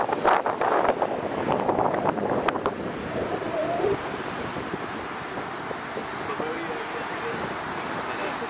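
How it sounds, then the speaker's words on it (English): Ocean waves breaking on the beach at Playa Las Pocitas in northern Peru, a loud surging wash that swells over the first few seconds then settles into steady surf with wind rumble on the microphone. "That's our ocean."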